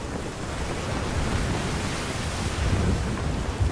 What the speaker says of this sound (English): Storm won't hold for long.